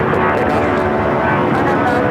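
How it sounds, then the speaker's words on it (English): Delta Airlines Boeing 757-200 taking off from LAX on a flight to Boston, a loud, steady broadband jet roar filling the whole moment without a break. "That is Delta Airlines Flight 403 taking off to Boston on the 757-200."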